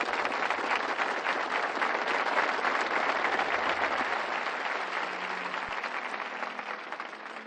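Sustained applause from a congregation during an evangelistic sermon, a dense steady patter of many hands that holds for several seconds and then slowly tapers off, with no talking over it.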